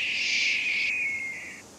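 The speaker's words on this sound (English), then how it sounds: "That sounded like a hawk." A single long, high, descending hawk screech sounds from a bird in the video game Nancy Drew: Ghost Dogs of Moon Lake, loud and clear, fading out over nearly two seconds with no talk.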